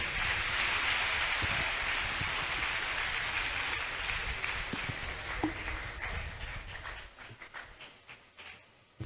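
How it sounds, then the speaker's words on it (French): Sustained applause from a church congregation welcoming a pastor to the pulpit, a dense roar of clapping that is loud at first and gradually thins into scattered claps toward the end. "nous recevons notre pasteur Kakikwe Noël Kodjo. Si vos acclamations"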